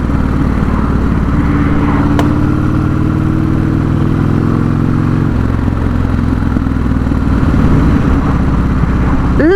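A custom Buell S1 Lightning with performance upgrades runs loud and close, its engine holding a steady, thumping idle with a rising then settling drone, one brief click near the start.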